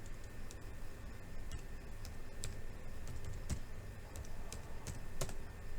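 Text being typed on a computer keyboard in a drawing program, a run of light, irregular key clicks close to the microphone over a faint room hum.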